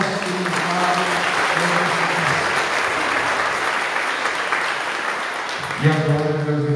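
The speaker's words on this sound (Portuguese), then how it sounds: "Uma salva de palmas ao nosso querido Padre." A Catholic congregation at a Mass for a priest's installation gives a long, loud round of applause, dense and steady, with organ or sung tones sounding at the start and returning near the end.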